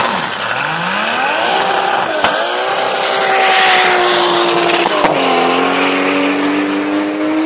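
A BMW drag racing car roars down the strip at full throttle, its engine climbing loudly through gear changes with brief breaks at each shift, sustained and close.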